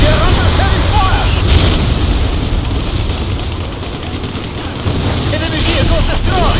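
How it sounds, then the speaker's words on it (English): Heavy sustained gunfire rattles through a battle in the video game Motherland, with dense overlapping shots and distant booms filling the scene continuously, while voices call out over the din. "We are under heavy fire!"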